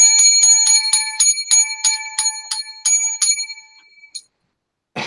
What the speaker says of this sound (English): I think that deserves a dozen bells for Fandango Friday